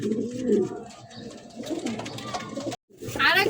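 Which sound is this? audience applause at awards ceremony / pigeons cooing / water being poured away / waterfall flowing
pigeons cooing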